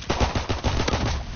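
Rapid bursts of automatic gunfire from a World War II shooter video game, Call of Duty WWII, sounding as dense, continuous rattling shots that stay loud and close throughout.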